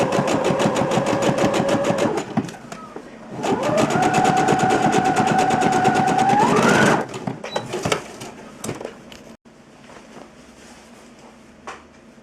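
A sewing machine stitching a garment seam, its fast, even motor whirr running in two long bursts separated by a short pause, then slowing and stopping into softer handling clicks.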